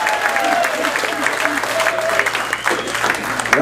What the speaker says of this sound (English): Clap it up, everybody, everybody.